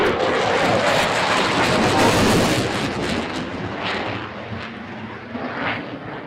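A Royal Danish Air Force F-16 fighter jet in a flying display at Farnborough International Airshow, its loud, roaring engine noise rising to a peak and then slowly fading as it passes, with no talking.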